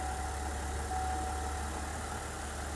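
A steady engine idles around 700 RPM in drive with a low, constant drone and a faint continuous whine, with an uneven rattling texture underneath from torque converter pendulums in a GM 10L80 or Ford 10R80 transmission, no voices.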